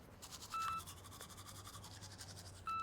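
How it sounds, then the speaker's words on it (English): Teeth brushing in a video game, a soft scratchy rhythmic scrubbing that runs steadily at low volume, with a short chime-like tone sounding near the start and again at the end. "That's brushing teeth."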